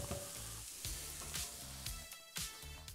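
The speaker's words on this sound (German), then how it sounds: "Und jetzt kommen hier unsere Zwiebeln und unser Knoblauch rein." Chopped onions and garlic sizzle and fry in a hot pan, a steady crackling hiss with brief stirring scrapes, close and alone with no talking.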